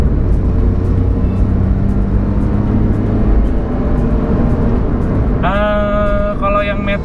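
A Nissan March with a 1200 cc three-cylinder HR12DE engine and automatic transmission hums steadily from inside the car, with a brief higher whine of revving toward the end.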